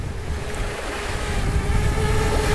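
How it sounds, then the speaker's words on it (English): Wind gusts buffet the microphone beside a rock at the ocean's edge, with waves surging in a steady, loud roar close by and a faint engine-like drone running underneath. "Whoa, that wind is blowing."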